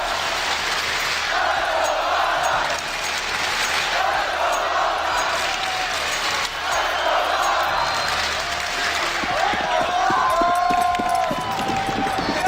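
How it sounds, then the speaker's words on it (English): A large indoor esports arena crowd at the ELEAGUE Boston 2018 CS:GO Major grand final roars and cheers steadily throughout, loud and sustained, with a commentator's voice running over the noise. "Listen to this crowd!"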